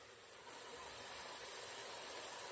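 Amaranth leaves dropped into hot cooked masala give a steady, soft sizzling hiss that swells slightly after the first half-second and holds on quietly.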